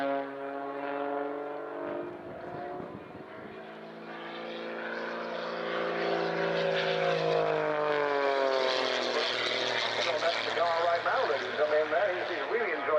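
A propeller aerobatic plane at an airshow sweeps through manoeuvres, its engine droning with rising and falling pitch as it dives and climbs, loud and close, while a commentator talks over it.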